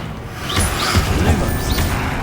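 The Confringo blasting spell goes off in Hogwarts Legacy, with crackling magical bursts, whooshing sweeps and low thuds layered over game ambience, loud and close throughout.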